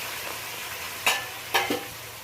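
Hot water poured into a pan of frying onion, softened tomato and green chili, giving two sharp sizzling bursts about half a second apart over a quiet, steady background.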